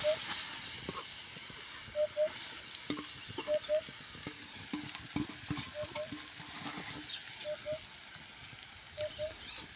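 Grated sweet potato fries in ghee with a faint, steady sizzle and hiss, punctuated by soft scraping and stirring taps in the pan, quiet and close.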